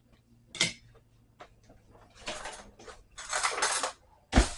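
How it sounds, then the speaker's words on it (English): A metal whisk works through barbecue sauce in a pot. Intermittent clinks and short scraping bursts sound against the pot, fairly quiet and close, with pauses between strokes. "We'll grab a whisk and we're going to whisk this."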